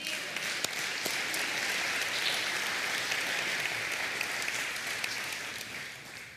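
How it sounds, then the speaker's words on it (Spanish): A church congregation applauds during a sermon, producing a sustained, even wash of dense clapping from many hands that continues steadily and fades slightly at the end, with no talk over it. "Le da un aplauso al Señor."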